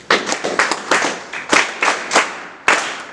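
An audience claps at a community cycling event, giving a short burst of sharp, fairly loud hand claps in an uneven rhythm with a few stronger accented claps. No voices are heard.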